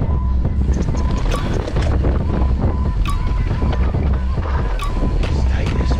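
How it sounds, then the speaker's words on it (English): Strong wind buffets the microphone outdoors on a Scottish mountain bike trail, a constant loud roaring rumble with gusty texture that continues for the whole stretch. "It's very windy today."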